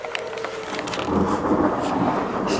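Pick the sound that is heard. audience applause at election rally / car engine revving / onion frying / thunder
thunder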